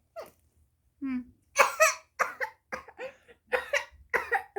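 A child coughs several times in short, sharp bursts, close and loud, with brief gaps and a small hiccup-like sound near the start; no words are spoken.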